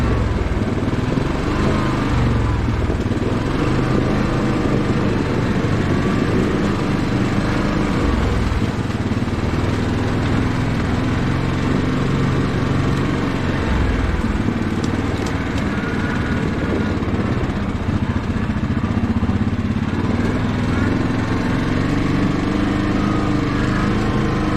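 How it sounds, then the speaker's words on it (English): Yamaha Grizzly 700 SE ATV engine braking on a snowy wooded trail in the Madawaska Valley, a steady, loud engine drone that holds throughout with slight shifts in pitch and no talking. "Good engine braking on the Grizzly."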